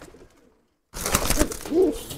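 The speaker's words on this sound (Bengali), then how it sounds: "এগুলা পেয়ার হইছে কবুতরগুলো বিশাল ছটফটে" Pigeons of old-breed and flying-line stock coo close by, a soft rolling call rising in the second half after a brief quiet gap, with fluttering activity around them.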